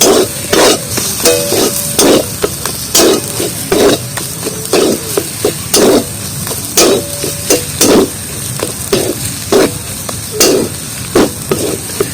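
Potatoes sautéed in oil with ground cumin in a pan, steady loud sizzling punctuated by a rhythmic series of scraping, knocking stirs close by.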